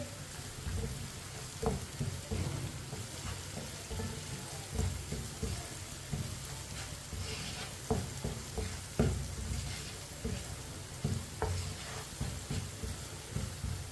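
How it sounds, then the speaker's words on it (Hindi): Ground spices — red chili powder, turmeric and coriander powder — frying in oil in a pan for white chickpeas, giving a steady close sizzle with intermittent scraping stirs and clinks throughout, no talk. "मसालों को 1 मिनट के लिए पका लेंगे"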